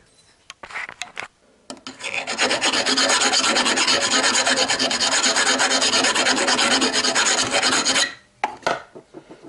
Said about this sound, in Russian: Чуть-чуть надо рассверлить.